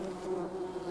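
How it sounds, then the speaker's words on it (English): Bees buzz around beehives on a farm in a ranching video game, a steady low-pitched droning hum, close and even, with no talk. "Look, beehives."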